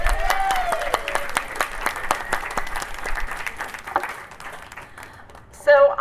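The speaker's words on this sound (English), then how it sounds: "Please, let's have another round of applause for Councilmember Flanagan." A political housing rally crowd in Austin claps for a councilmember, the applause steady and fairly loud before gradually thinning out, with a brief burst of other noise near the end.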